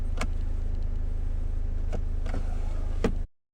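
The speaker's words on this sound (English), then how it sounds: "if you tap on it, it'll close automatically for you" The powered centre console storage lid of a 2018 Audi A6 2.0T Quattro closes by itself with a soft, steady motor hum and a few light clicks. It stops cleanly at the end.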